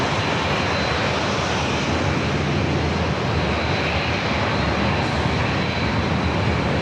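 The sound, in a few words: KLM Boeing 787-9 Dreamliner jet departing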